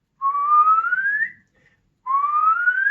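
Someone whistles to call cats to their food: two clear, rising whistled notes with a short pause between them, loud and close, with no other sound.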